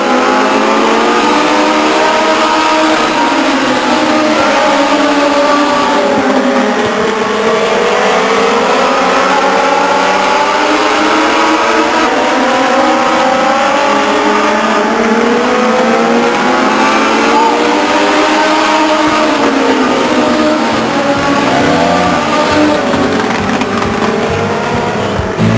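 Legends race cars roar around Stockton 99 Speedway, several engines revving and sweeping up and down in pitch as they pass through the turns, loud and continuous with an announcer talking over the racing.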